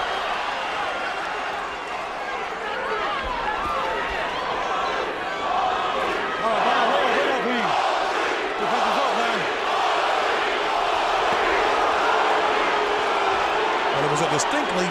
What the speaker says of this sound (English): I think you're going to hear the crowd continue to change up back and forth in this entire fight.